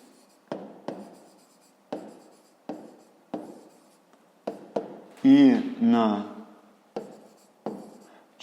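A pen writes out a fifth-grade maths exercise solution, with a series of short, close scratching strokes in a steady rhythm, briefly interrupted by a spoken voice.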